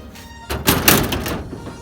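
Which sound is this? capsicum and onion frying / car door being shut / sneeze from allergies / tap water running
car door being shut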